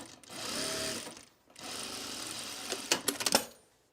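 A sewing machine stitches French seams on a self-drafted blouse: a fast whirring run, a short pause, a second longer run, then a few quick clacking stitches before it stops.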